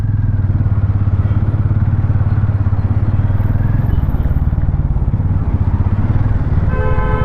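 A Hero Mavrick 440 cruiser motorcycle pulls away in first gear, its engine giving a loud, close, throbbing rumble that pulses rapidly and changes note partway through as the bike moves off.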